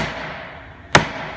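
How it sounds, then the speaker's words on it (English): A single sharp hammer blow knocks a wooden plug down into a glued hole, a crisp near thud after quiet workshop ambience. "Now, put the plug in, hammer it down."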